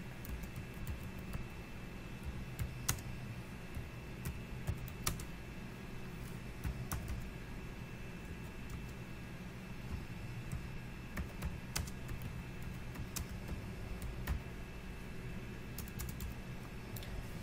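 A computer keyboard is typed on for a long stretch with a steady patter of soft key clicks over faint background hiss. The typing sounds near and quiet, and no one talks.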